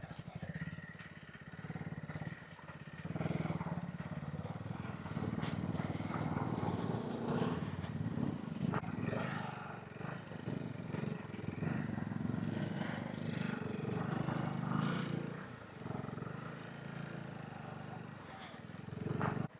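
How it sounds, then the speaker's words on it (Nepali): A motorcycle climbing a steep road to a hilltop viewpoint in Lamjung, held in first or second gear with the engine working hard, a continuous rough low drone heard from on the bike with wind noise, no talk. "बाइक तात्न सुरु भयो अब चाहिँ बिचरा 1-2 गियर मात्रै लिएर आएको छ"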